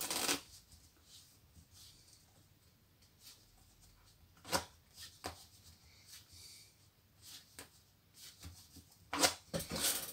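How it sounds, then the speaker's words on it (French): A normal deck of playing cards being shuffled by hand up close, with soft riffling and sliding card sounds broken by a few crisp, louder snaps of cards riffled together. "Jeu de cartes. Tout ce qu'il y a de plus normal, on peut le mélanger."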